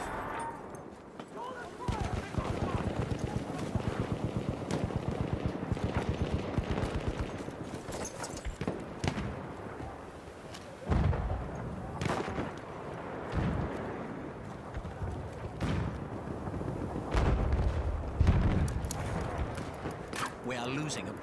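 Gunfire rattles in Battlefield 1 cavalry combat on Fao Fortress, with scattered sharp shots and bursts of varying distance over a busy battlefield din, and voices talking over it.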